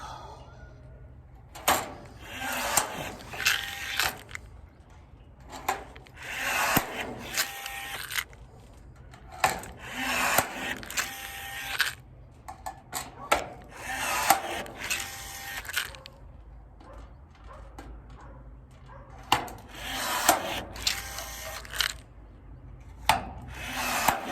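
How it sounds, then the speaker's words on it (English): A rivet tool sets rivets into wall splicers for PAAL Homes, each squeeze giving a loud, rasping mechanical burst of a second or two, repeated about half a dozen times at a steady pace with short pauses between. "And so the old trusty rivet tool."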